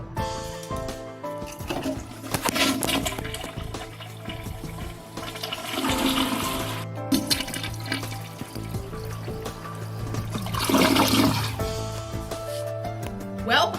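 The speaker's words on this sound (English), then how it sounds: "Now to flush all this shit down the toilet." A toilet flushes in several rushing, gurgling surges across the clip, close and fairly loud over steady background music, with occasional voices faintly present.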